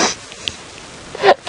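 A brief sneeze from dust up the nose on an early-morning safari game drive at Djuma Game Reserve. It is a short nasal burst near the end, over faint open-air background hiss.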